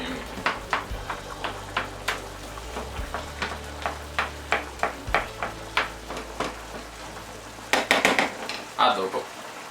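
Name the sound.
sausage and cauliflower sauce sizzling in a pan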